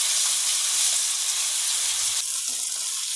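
Ginger garlic paste hits a hot pan of browned onions over full gas flame for chole, giving a steady, loud, close sizzle that hisses throughout with no talk.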